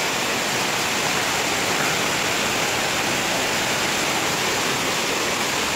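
Steady rain pours down outdoors onto potted plants, a dense, even hiss that holds without pause, fairly loud and close, with no talk.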